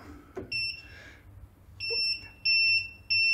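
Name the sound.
heat press three-second alarm beeping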